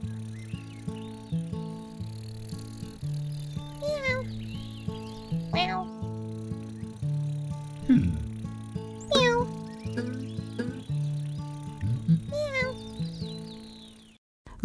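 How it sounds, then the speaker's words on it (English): A cartoon kitten meows repeatedly over a bouncy children's music track, with its high mewing cries rising above the steady tune. "Grok got help from Sam to get the kitten down."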